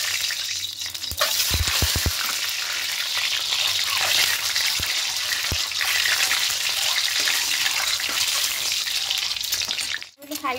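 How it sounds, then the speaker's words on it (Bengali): Eggs frying lightly in white oil in a pan, a steady close sizzle with a few brief clatters and stirring knocks, no talk. "এবার তেলের মধ্যে ডিমগুলোকে হালকা"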